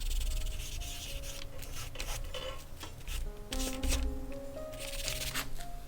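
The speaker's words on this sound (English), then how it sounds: "The eraser works really well on this one." An eraser rubs over charcoal on torn painted paper, giving a steady papery scrubbing and rustle that runs close and continuous through the clip, with scattered light clicks and brief tonal sounds behind it.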